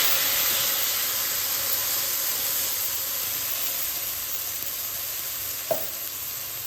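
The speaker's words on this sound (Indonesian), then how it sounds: "Sekarang kita mau tumis bumbu sayur kita." Spice paste for a bitter-greens stir-fry sizzles steadily in a hot pan, a continuous close hiss with a brief clink near the end.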